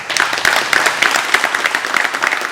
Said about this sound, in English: I would appreciate a round of applause for those two gentlemen